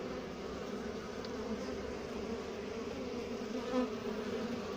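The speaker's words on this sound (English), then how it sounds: "There's a wasp." A steady, droning wasp buzz hums continuously throughout, close by at a beehive being cleaned out, with no voices and only slight swells in loudness.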